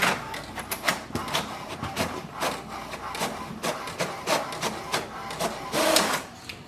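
An HP DeskJet 2942 inkjet printer prints its information page, giving a close, steady run of mechanical whirring and rapid carriage clicks and rattles with regular bursts, alone without talk.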